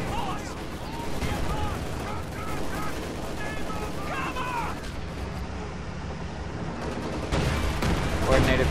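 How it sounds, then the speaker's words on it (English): Rapid bursts of gunfire and explosions crackle from a real-time strategy video game as units concentrate fire on an IS-2 tank, dense overlapping shots with someone commentating over the battle. "concentrated fire once again being used on the IS-2"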